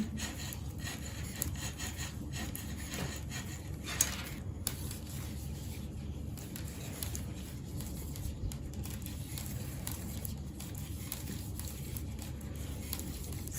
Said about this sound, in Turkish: Şimdi yine ön sıramdayım ve hepsini düz örüyorum.